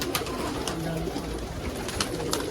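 A loft of fancy coloured pigeons keeps up a low continuous cooing, with scattered sharp clicks and flutters over the steady murmur.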